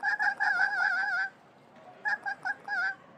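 A cartoon bird in the Trollface Quest 2 puzzle game gives a run of goose-like honks, first a quick burst of four, then a pause and four shorter honks, clear and close with no talking.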